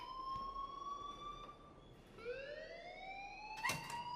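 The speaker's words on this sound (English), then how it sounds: "please turn off that alarm since that's your job" A rising and falling electronic alarm wails in the video game Life is Strange, with steady tonal sweeps that climb in pitch and a sharp burst near the end, moderately loud with no talk over it.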